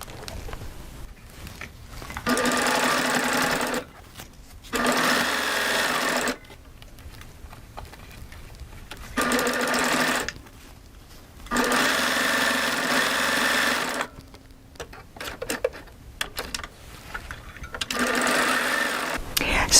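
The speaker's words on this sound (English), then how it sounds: "I kind of want to sew a little bit more slow." A Triumph serger sews a flatlock seam for quilt piecing in several bursts of steady, moderate-speed whirring, each a few seconds long with short pauses between them, heard close up while a person talks.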